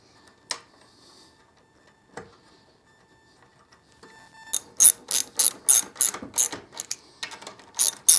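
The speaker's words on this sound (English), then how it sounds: "So I'm just going to go through and tighten these down" A ratchet clicks in quick, close bursts while tightening stock bolts back into place, loud repeated pawl ratcheting after several seconds of near silence with a few faint knocks.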